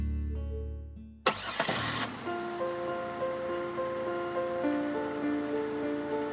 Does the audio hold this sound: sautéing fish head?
no